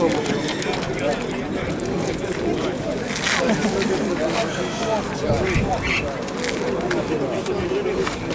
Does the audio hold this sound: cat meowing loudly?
no